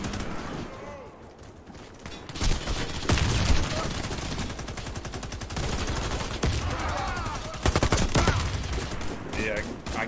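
Rapid bursts of video game gunfire crackle through a match, dense automatic volleys and single shots coming in waves over game noise, with a player's voice talking at times.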